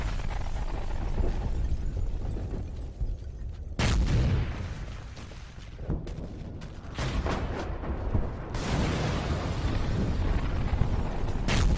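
Repeated heavy explosions from mortar fire in the video game Only War, loud booming blasts with rumbling tails, several sharp onsets in succession filling the whole stretch.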